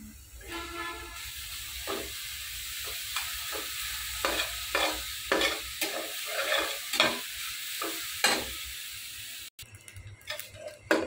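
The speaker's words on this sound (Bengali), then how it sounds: "এখন আমি শুটকিটা ভেজে নিব" Dried fish (shutki) frying in a pan, with a steady sizzle broken by repeated sharp bursts of crackling and spatter as it is stirred, close and loud with no voices.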